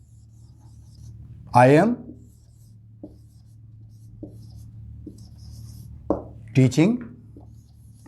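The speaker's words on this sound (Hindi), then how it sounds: "इसी सेंटेंस को मैं दोबारा लिखता हूँ।" A sentence is written out on a board in an English grammar lesson, heard as a few soft, brief strokes and taps between short bursts of someone speaking.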